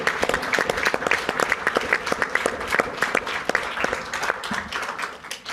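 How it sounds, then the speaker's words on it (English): Audience applause at a NATO security forum panel, a steady crowd of many hands clapping for the full stretch, dense and fairly close, with no talk over it. "can we give them a round of applause for what they're doing here?"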